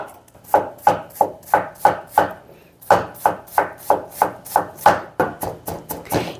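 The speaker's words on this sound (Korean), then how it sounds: "양파를 좀 곱게 다져 보겠습니다" A knife finely mincing onion on a cutting board, quick rhythmic chops in close, loud bursts with a short pause midway before the steady chopping resumes.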